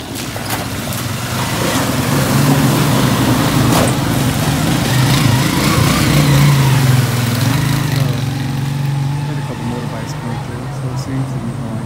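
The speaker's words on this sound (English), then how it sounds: "And we still have some bikes coming through," Motorbikes ride through a flooded road in The Gambia, their mid-pitched engines droning loud and close as they pass, with a steady roar that fades slightly near the end.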